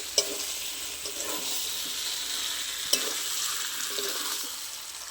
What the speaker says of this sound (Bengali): মশলার সাথে আলুটা 1 মিনিট মতন কষিয়ে নেব